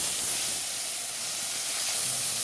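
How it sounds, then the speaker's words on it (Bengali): Bata fish fry in hot oil in a wok, a dense and loud hissing sizzle that holds steady throughout with no talk over it. "এই যে বাটা মাছটা আমি দিয়ে দিয়েছি এটা আমি ভেজে নিচ্ছি"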